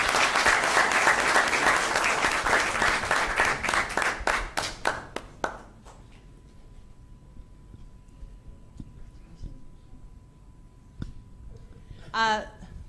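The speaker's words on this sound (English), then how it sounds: "Nice round of applause for Don." Applause at a city council meeting starts loud and full, then thins into sparse individual claps and stops, followed by near quiet and a brief burst of a voice at the end.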